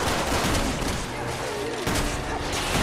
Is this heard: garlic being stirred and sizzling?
no